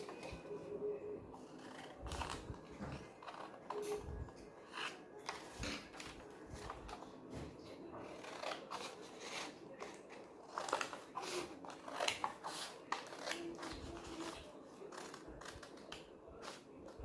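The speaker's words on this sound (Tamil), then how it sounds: "இப்போ இதெல்லாம் கட் பண்ணி எடுத்துருவோம்." Scissors cut through blouse fabric around a neck design, giving a fast, close run of crisp snips and rustles, with faint soft handling between cuts.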